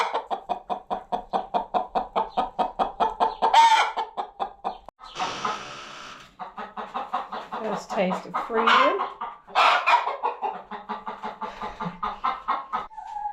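Rescued battery hens cluck in rapid, rhythmic bursts close by, broken by a few louder squawks, with a person speaking briefly over them.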